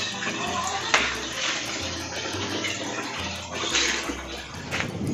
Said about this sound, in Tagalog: Malakas na nga yung tubig.